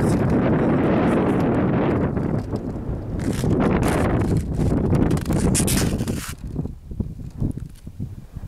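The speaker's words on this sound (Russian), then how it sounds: "Ветер дует сильно." Heavy wind buffets the microphone on an open frozen lake during a ski trip, a loud rushing roar with gusty bursts that eases into quieter, intermittent flutters near the end.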